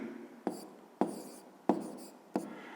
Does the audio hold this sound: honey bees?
no